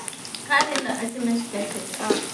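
Turmeric, garam masala and chili powder frying in a pan, a soft sizzle with stirring scrapes, close and moderately loud, with faint background voice traces.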